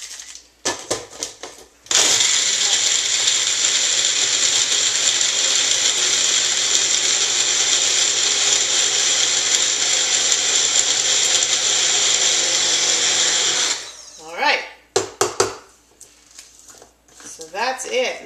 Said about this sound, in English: Put the handy dandy top on and give it a little shake